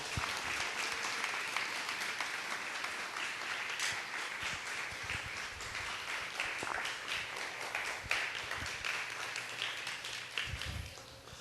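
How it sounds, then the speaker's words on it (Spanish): A church congregation claps loudly and steadily during an evangelical sermon, a dense, continuous burst of applause filling the room for several seconds with no speech over it. "Dale un aplauso fuerte a Jesús."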